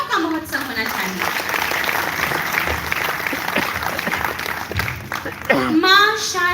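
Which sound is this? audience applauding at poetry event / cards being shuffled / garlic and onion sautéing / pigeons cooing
audience applauding at poetry event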